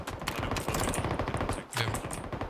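Automatic gunfire in PUBG, a fast rattling burst of shots aimed at a moving car's tyre, loud and continuous with a short gap before the firing resumes.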